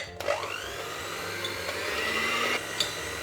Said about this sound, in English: I'll start by mixing the yolks first.